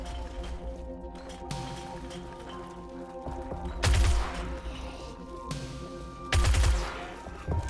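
Gunfire aimed at zombies in the game 7 Days To Die: two loud, close bursts of shots stand out around four and six and a half seconds, with quieter scattered activity in between.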